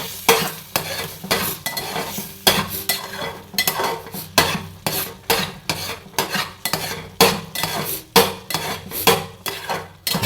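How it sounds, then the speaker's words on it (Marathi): A spoon scrapes and stirs semolina in a pan with hot water for rava sheera, making steady, rhythmic strokes that repeat close up with no talking. "व्यवस्थित असा रवा ढवळून घ्यायचा."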